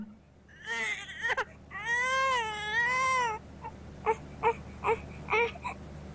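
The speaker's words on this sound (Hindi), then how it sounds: "मैं तो खुद इसकी रोने की आवाज से उठी हूँ" An infant cries in a Pakistani drama scene, with a couple of drawn-out wails followed by shorter whimpering sobs, close and clear over a quiet room.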